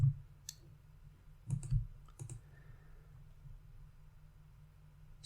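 Computer mouse clicking in a quiet room: a few sharp, close clicks, including a quick double pair, then silence.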